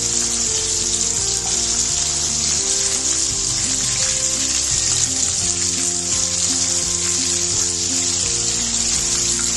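Small anchovy (nethili) fish fry in hot oil, giving a loud, dense, continuous sizzle and crackle that holds steady throughout without pause.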